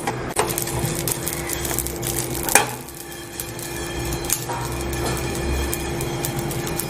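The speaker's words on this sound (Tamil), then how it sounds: "நல்லா இது மாதிரி வெடிக்கிற சத்தம் கேட்கணும்." Whole spices (cumin, pepper, cloves and cinnamon) dry roast in a pan on a low flame, giving scattered sharp pops and crackles over a steady sizzling hiss.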